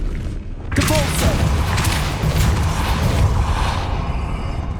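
A Depulso spell cast in the Hogwarts Legacy video game: a sudden loud boom-like burst about a second in, followed by sustained rumbling, crackling game effects over a steady background.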